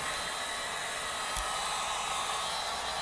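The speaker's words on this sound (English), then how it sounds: "He's kind of just using a hot gun just so it can speed up the process" A heat gun blows steadily while drying fiberglass on a drift boat, a constant loud breathy whoosh with a faint motor whine throughout and one brief low bump midway.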